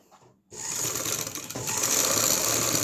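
A sewing machine stitching a lined kurti starts up after a brief quiet moment, then runs in a fast, steady mechanical whir that grows slightly louder partway through, close and alone.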